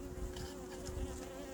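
Bees hum steadily at an apiary, a faint, even buzzing drone over a short stretch with no talking.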